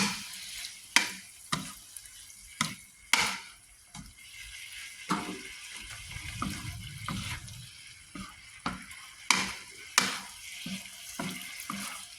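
Eggplant stir-fried with soybean paste in a pan, a spatula scraping and clacking in irregular strokes over a soft, steady sizzle, fairly close with no voices.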